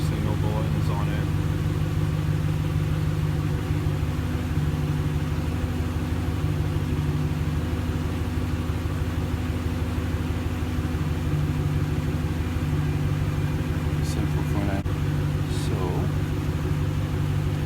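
A car engine idles steadily during a scan-tool diagnostic demo, a loud, even low hum with constant tonal drone and no change in revs, with a few faint clicks late on.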